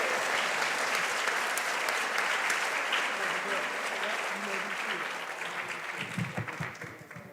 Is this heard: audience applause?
yes